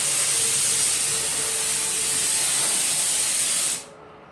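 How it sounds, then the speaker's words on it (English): A steam cleaner hisses loudly and continuously over cat trees and cat beds during a cleaning routine, the steady spray cutting off abruptly near the end. "We're going to steam all the surfaces, including the cat trees."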